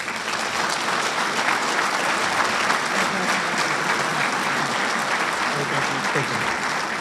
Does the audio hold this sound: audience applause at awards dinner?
yes